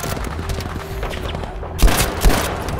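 Rapid gunfire in the World War II shooter Battlefield V, a dense fusillade of shots with a couple of louder blasts standing out near the end, heard alone without talk.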